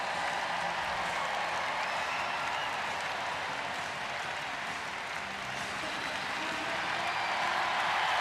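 A crowd applauds the British women's swimming relay at the London 2012 Paralympic Games, a broad, steady wash of clapping filling a large indoor pool hall, with faint voices underneath.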